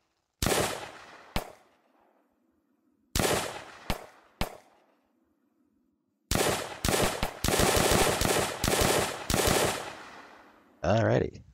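Full-auto gunfire in an Unreal Engine zombie video game, heard as short rapid bursts of sharp shots separated by silent gaps, ending in a longer sustained burst and a final weapon sound.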